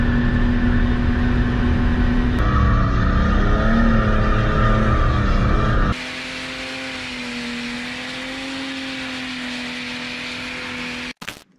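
A car engine revs high and steady during drifting practice, a loud sustained drone with wavering pitch that shifts level midway and cuts off abruptly at the end.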